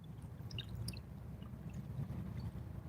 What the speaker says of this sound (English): enjoy the sounds of the water in the background